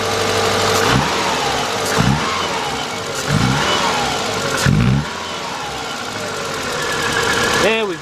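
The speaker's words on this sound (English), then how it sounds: "you can definitely see the misfire that it has" A 2000 Subaru Impreza Outback with a 2.2 engine idles roughly close by, its steady running broken by a misfire that stumbles about once a second, with a voice speaking over it.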